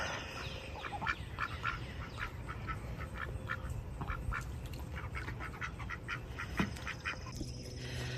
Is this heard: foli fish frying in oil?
no